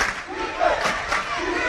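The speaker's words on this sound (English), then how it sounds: "Crowd going wild." Crowd at a girls' basketball tournament game cheering and roaring loudly in a steady, dense wash of voices that swells and stays sustained throughout.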